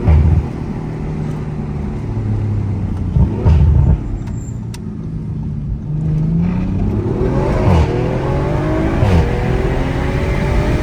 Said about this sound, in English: I'm hearing a little bit of intake noises.